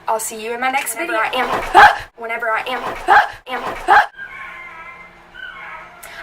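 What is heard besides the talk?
dog barking at a package delivery at the front door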